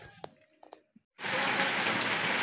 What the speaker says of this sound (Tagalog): umulan mga kapiks at dining